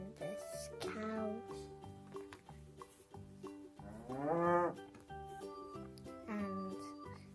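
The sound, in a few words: cow mooing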